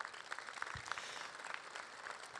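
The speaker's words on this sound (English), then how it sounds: "Give them a round of applause." A faint round of applause from an audience at the Banc of California Stadium ribbon cutting ceremony in Los Angeles, sparse distant clapping without any talk.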